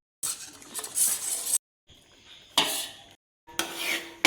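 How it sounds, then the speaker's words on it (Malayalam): Ragi powder is stirred into coconut milk in a pot, with a spoon scraping and clinking against the metal in three separate bursts and short silent gaps between them. "ഇതിലേക്ക് നമ്മൾ എടുത്ത് വെച്ചിട്ടുള്ള റാഗി പൗഡർ ചേർത്തിട്ട് ഇളക്കി യോജിപ്പിച്ചെടുക്കണം"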